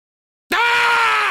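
A person lets out a loud, sustained vocal roar after a brief silence, a strained, scream-like yell imitating a roar, alone and close to the microphone.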